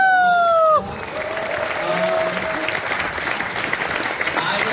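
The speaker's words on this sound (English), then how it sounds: "Please give a big cheer for him." Audience at an international award ceremony in Sweden breaks into applause, with a dense, sustained clapping from a crowd that carries on steadily after a brief musical tone fades.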